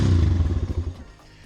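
A Dirt 140YX dirt bike engine runs after a kick start, a loud low rumble with irregular clattering that fades into a quieter idle by the end, heard up close without speech.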